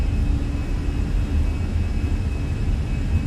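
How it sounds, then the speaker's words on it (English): Airliner jet engines at takeoff power in Microsoft Flight Simulator produce a loud, steady broadband roar with a thin high whine, continuous and unchanging, with no voices. "Takeoff power set."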